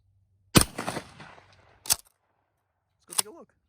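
A shotgun fires Aguila buckshot mini shells at a paper target, with two sharp, loud reports about a second apart and a faint action clatter between. A voice speaks briefly afterward.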